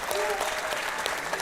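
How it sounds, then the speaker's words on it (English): Applause fills a live boxing event hall as the crowd cheers a fighter from the red corner, a dense, continuous patter of clapping beneath an announcer's amplified voice. "Come on, give him a big round of applause."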